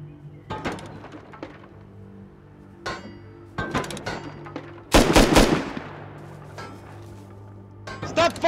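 Gunfire and metallic impacts in a Rust survival game fight near a base, with scattered sharp cracks, a louder burst of rapid shots in the middle and more shots at the end, mixed with clinking and a low hum.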